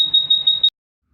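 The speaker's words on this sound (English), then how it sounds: "if the person falls down, the buzzer will turn on, attracting people towards the hurt driver" Smart helmet accident alert buzzer sounding a high piercing electronic tone in quick repeated pulses for under a second, then cutting to silence.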